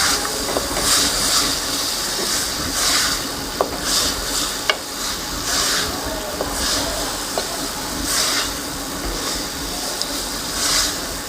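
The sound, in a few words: boiled lentils being added to minced meat in a pot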